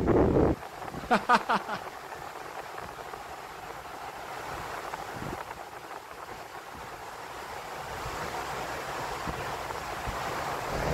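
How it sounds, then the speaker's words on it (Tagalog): Strong ocean waves at Pagudpod in rough weather, a broad continuous surf roar mixed with wind buffeting the microphone, building slightly over time after a few sharp knocks at the start. "Malakas ang alon."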